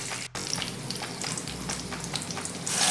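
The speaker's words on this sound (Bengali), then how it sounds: "এখানে আমি মশলাটাকে একটু ভালো করে ভেজে নেব" Cardamom, cloves and cinnamon frying in hot oil for a Bengali prawn malai curry, a steady bright sizzle with crackling pops, close and continuous.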